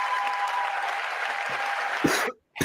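Sustained crowd applause fills the chamber at a State of the Union address, dense steady clapping for about two seconds before breaking off abruptly, with a couple of louder claps afterward.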